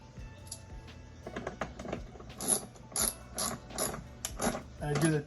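Quick ratcheting clicks and plastic-and-metal rattles close up as a Milwaukee Packout front caster wheel is fitted and hand-tightened on a retractable steel dolly, in short bursts with brief pauses and no talk.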